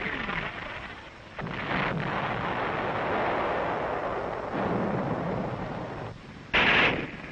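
Heavy gunfire and artillery during the WWII battle for Okinawa, a dense continuous roar of firing and blasts with a sharp louder burst near the end, no voices.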